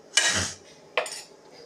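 Potatoes and green peas tipped into a cooking pot for a pea kurma, giving two short clattering bursts of food and utensil against metal, the second softer than the first, with no talking.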